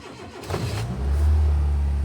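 A car with a smoking turbo starts up: a brief cranking burst, then the engine catches and settles into a steady, loud idle close by, with no talking.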